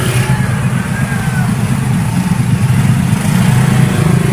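A motorcycle engine drones steadily and loudly throughout, a low rumbling hum holding close by on a street near a school in the morning.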